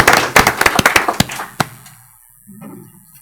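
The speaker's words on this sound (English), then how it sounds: "Let's give them a big round of applause." A short burst of sharp clapping from a few people at a city council special meeting, about a dozen crisp claps in the first second and a half before they fade into quiet room noise.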